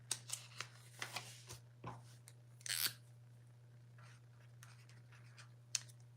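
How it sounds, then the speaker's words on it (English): Pen writing on paper, a run of scratchy strokes and short scribbles with brief pauses between them, fairly close and quiet over a steady low electrical hum, with no talking. "Let me write that down."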